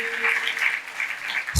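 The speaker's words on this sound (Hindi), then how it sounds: "आइए इनके लिए भी ज़ोरदार तालियां बजाएं" Short burst of crowd applause at a live prayer gathering, with fluctuating clapping that swells at the end.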